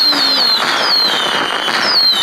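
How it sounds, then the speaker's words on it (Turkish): Fireworks go off in a video game, loud whistling rockets streaking up with crackling bursts packed close together for the whole stretch. "Hava fişeklerimiz var pat diye."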